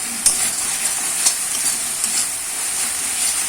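Chili powder and ground masala sizzling steadily in hot oil for a Bengali fish curry, with a spoon stirring and scraping through the pan in a few sharp clinks, close and continuous with no talk.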